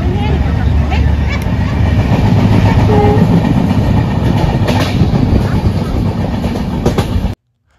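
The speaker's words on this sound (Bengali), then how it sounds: "শিলিগুড়ি জংশন থেকে ট্রেন নিয়েছিলাম মালবাজার" A train running from Siliguri Junction to Malbazar rolls loudly and continuously, with a deep rumble, wheel clatter and a brief horn-like tone partway through, before cutting off abruptly.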